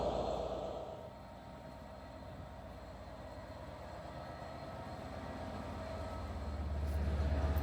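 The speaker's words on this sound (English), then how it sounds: "the loco that's going to be hauling me down to Cardiff is 67020" Diesel locomotive 67020, hauling a train to Cardiff, gives a steady low rumble that rises toward the end, with a faint rail hum underneath and no speech.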